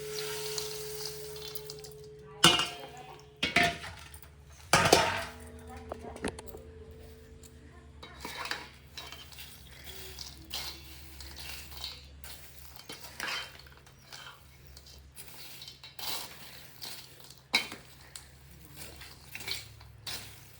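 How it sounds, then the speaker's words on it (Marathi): Sesame, poppy seeds and cardamom being mixed by hand in a large metal basin, with scattered clinks and sharp knocks at irregular intervals and a soft grainy rustle between them, close up and fairly quiet. "आता हे ना सगळं एकत्र करायचं मैत्रिणींना एका मोठ्या घमेल्यामध्ये"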